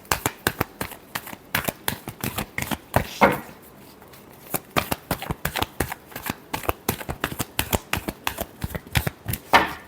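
Tarot cards are shuffled by hand in quick, crisp riffling bursts, close and rhythmic, with a brief pause midway before the rapid flicking resumes.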